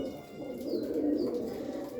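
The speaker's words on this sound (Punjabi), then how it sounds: "ਆ ਦੇ ਆਪਣੇ ਕਬੂਤਰ" Pigeons coo softly and repeatedly at close range, low throaty calls rolling over one another in a steady murmur, with faint background noise.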